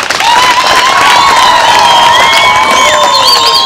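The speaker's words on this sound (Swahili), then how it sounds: "Naomba tumpigie makofi" Audience at a public event in Dodoma claps and cheers loudly, thick continuous applause mixed with high shouts and whoops from the crowd, close and sustained throughout.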